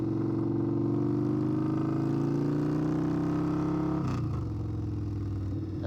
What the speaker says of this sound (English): it makes that jake brake sound right when you shift